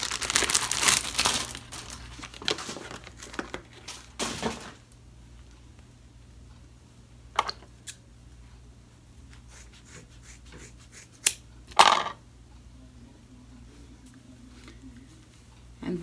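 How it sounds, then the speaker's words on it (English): Scissors snipping braiding hair in two during a crochet braid install, with crinkly rustling of the hair and a few sharp cuts scattered over a quiet room. "I'm gonna cut this one in two also."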